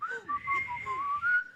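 A person whistles on an inward breath, a thin continuous tone that wavers up and down in pitch for over a second, close and clear with no talking.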